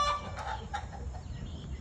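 Roosters cluck and squawk at a knife cockfight in the Valparai hills. The calls come close and fairly loud in short, irregular bursts over a steady rumble of background noise.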